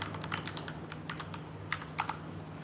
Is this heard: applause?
no